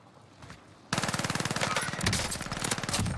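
An SMG in Call of Duty Warzone opens up with a sudden sustained burst of rapid, evenly spaced shots, loud and close, continuing through the rest of the clip.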